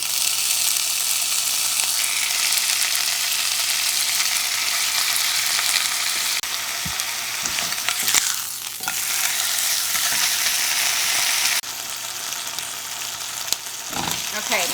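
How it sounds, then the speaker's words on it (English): Three turkey slices searing in a frying pan: a dense, continuous sizzle that holds steady, dips briefly partway as something shifts in the pan, with a few soft clinks near the end. "I'm gonna go ahead and sear 3 slices in my pan."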